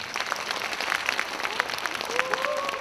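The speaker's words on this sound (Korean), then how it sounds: "큰 박수 부탁드리겠습니다." Indoor audience applause at a 2024 Mokdong admissions-strategy seminar for parents, greeting a lecturer. The clapping is steady and dense throughout, with some voices mixed in.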